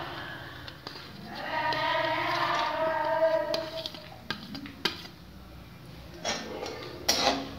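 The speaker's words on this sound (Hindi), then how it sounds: "अब इसमें हम काजू डाल देंगे, इसके बाद हम पिस्ता डाल देंगे" Cashews and pistachios tumble into a pan of frying moong dal halwa, bringing soft clinks and stirring scrapes over a gentle sizzle, with a few sharp utensil taps toward the end.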